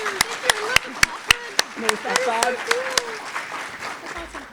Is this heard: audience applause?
yes